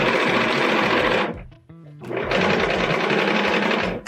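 A sewing machine stitches a quilt in two loud, rapid whirring runs, split by a short pause with a few slower individual stitches.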